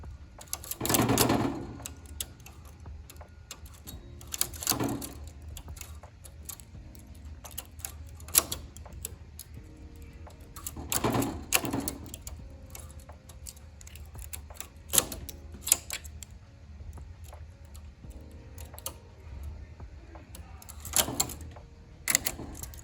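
A domestic knitting machine working cable stitches, with a carriage clattering in bursts every few seconds and quieter clicks and ticks of needle transfers in between, close and with no talk.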